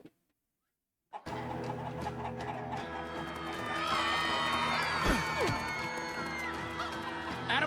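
Chickens cluck and squawk in Minecraft Story Mode over a busy game soundtrack. Sudden loud noise breaks in after a second of silence and keeps a dense, crowded texture to the end.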